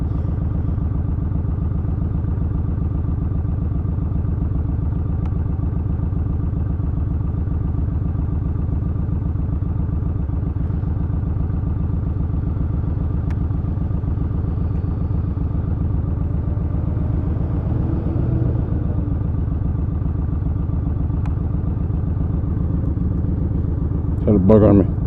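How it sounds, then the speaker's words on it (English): A Yamaha 1600cc motorcycle on a ride through the foothills produces a continuous, loud, low engine drone with steady muffled wind, plus a brief clatter near the end. "how about this big-ass bike that I'm riding?"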